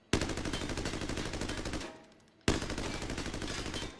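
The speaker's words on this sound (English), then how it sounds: "54 damage per shot for an auto gun like this is ludicrous" An automatic rifle in a tactical shooter video game fires two long, loud, close bursts of rapid shots, separated by a short pause.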